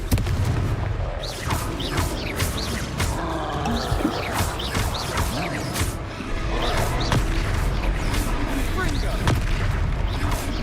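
Repeated Confringo fire-spell blasts in Hogwarts Legacy, a steady barrage of booming impacts and crackling bursts in a busy battle, with voices calling out over the continuous combat noise.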